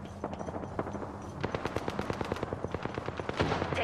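Rapid automatic gunfire from the video game Apex Legends, with dense bursts of shots crackling steadily throughout and a louder burst near the end, no voices.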